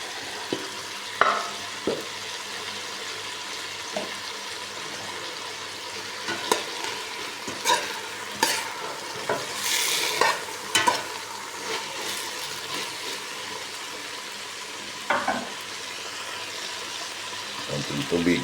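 Ampalaya (bitter gourd) and shrimp stir-frying in a pan, with a steady sizzle broken by scraping, clattering stirs from a utensil throughout, and a voice speaking faintly now and then underneath.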